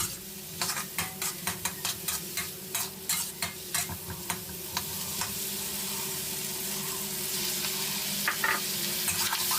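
Chili and other ingredients for squid with salted egg are stir-fried in a pan, with a spatula scraping in quick rhythmic strokes over a constant close sizzle.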